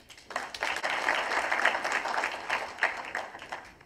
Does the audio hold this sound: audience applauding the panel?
yes